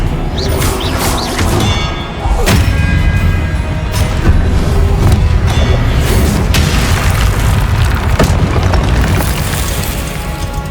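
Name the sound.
Expelliarmus spell blast in Hogwarts Legacy video game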